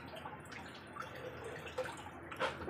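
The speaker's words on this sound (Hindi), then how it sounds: "ये पानी धीरे धीरे भर रहा है यहाँ पे।" Water slowly fills an air cooler, giving quiet, sporadic drips and soft trickles up close against a hushed room background.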